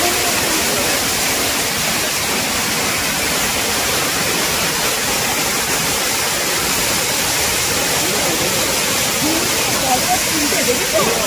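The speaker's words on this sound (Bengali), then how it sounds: "আমরা এবার একটুখানি ফলসের সামনে চলে আসলাম" Bamni Falls waterfall, a loud, dense, unbroken rush of falling water that roars steadily throughout with no pauses.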